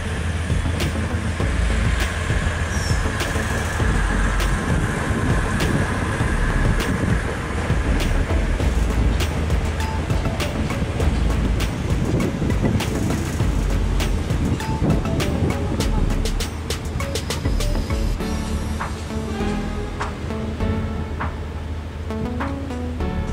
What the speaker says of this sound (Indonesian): di jalur nomor 1 masuk kereta api Prambanan Express tujuan